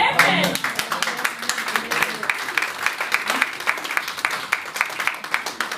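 A church congregation applauds, with dense, steady clapping filling the whole stretch at a fairly even level and faint voices mixed in underneath.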